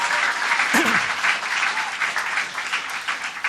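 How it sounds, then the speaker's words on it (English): An audience at a teaching awards ceremony breaks into applause, a dense, even wash of clapping that carries throughout, with a brief vocal cry rising near the start. "let's give them a round of applause"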